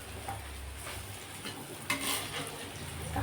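Lentil fritters (bora) frying in a pan, a steady soft sizzle with light stirring and a brief clatter of utensil against the pan partway through.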